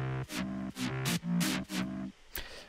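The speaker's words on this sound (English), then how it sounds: "I did like this super distorted layer." Heavily distorted synth layer from an electronic dance track production, playing four or five buzzy, gritty chord stabs in a choppy rhythm, loud and upfront with no talking, then a brief hit near the end.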